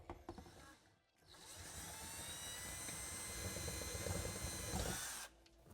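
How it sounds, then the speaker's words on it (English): A power drill with a 21/64 inch bit bores out a middle hole during a Polaris General 4 1000 UTV parts install. A short burst and brief pause lead into about four seconds of steady, close, whining drilling before it cuts off. "take the supplied 21/64 inch drill bit and we're going to drill out this middle hole"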